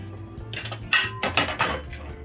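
A pot of Jamaican curry goat is opened and checked with a string of metallic clanks and scrapes of a lid and spoon against the cookware, close and irregular, with no voices.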